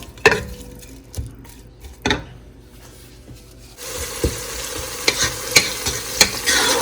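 Onions soften in oil in a pot for a turnip curry. At first, a few sharp utensil clanks sound against a quiet background, then a steady, close sizzle of frying sets in, punctuated by more stirring knocks.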